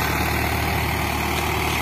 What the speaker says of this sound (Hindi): आप देख सकते हो ये ट्रैक्टर चल रहा है